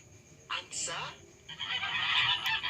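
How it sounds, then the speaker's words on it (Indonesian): A goose honks in a few loud nasal calls, a short pair followed by a longer stretch, heard close while young children are learning animal names. "Angsa."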